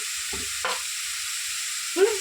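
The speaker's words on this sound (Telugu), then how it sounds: "ఈ మసాలా పేస్ట్ మొత్తం బాగా ఫ్రై అయ్యేదాకా మనం కలుపుతూ ఫ్రై చేద్దామండి" Masala paste with turmeric being stirred and fried on medium flame for meal maker kurma, a steady sizzling hiss with a couple of soft spoon scrapes against the pan, close by.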